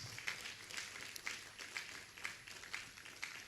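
Soft, distant applause from an audience welcoming a provost to the high table at a university campus hub launch, with a steady wash of clapping and slightly louder claps at regular intervals.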